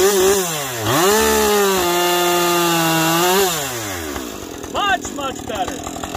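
A Husqvarna 550xp chainsaw bucks cherry logs. The engine is loud and close, revving up and down in sweeping whines, then drops into a rougher, choppier cutting sound near the end.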